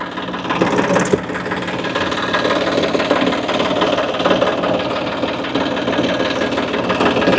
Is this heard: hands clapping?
no